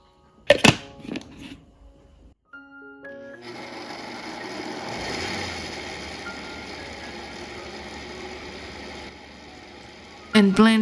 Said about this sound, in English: Then add all the beans and half of the water into the blender for the first blend.